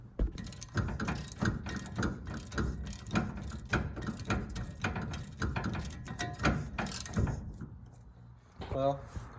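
A ratchet clicks in rapid bursts while bolts are tightened during a disc brake swap on a 1964 Plymouth Fury, close and busy with metallic clatter, pausing briefly near the end.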